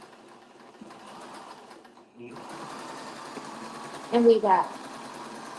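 Sewing machine stitching quilt rows in a studio, a steady close mechanical whir that starts after a quiet lead-in and keeps running, with a person talking briefly over it.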